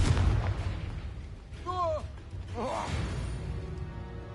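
A Confringo explosive spell blast in Hogwarts Legacy on PS5 bursts out loud amid game noise, with a short rising magical whoosh and a second crackling burst.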